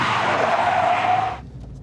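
A race-derived car brakes hard to a stop, its tires giving a loud, close, sustained skid squeal for over a second that cuts off abruptly, leaving faint low rumble.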